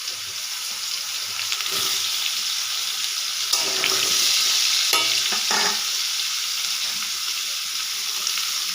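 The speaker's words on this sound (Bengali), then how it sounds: "ওই তেলেই আলু ভেজে নেব" Potatoes frying in the same oil just used for cauliflower, a steady close hiss of sizzling with occasional stirring scrapes and clinks, no voices.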